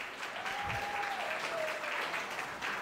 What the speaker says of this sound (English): make some noise for grandma, right?